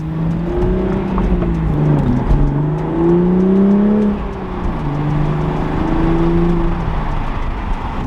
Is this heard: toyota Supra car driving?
yes